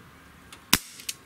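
A Smith & Wesson M29 .44 Magnum-style CO2 BB revolver fires a single sharp, close crack, followed by a couple of faint clicks.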